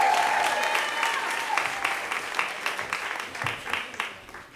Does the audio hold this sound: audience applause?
yes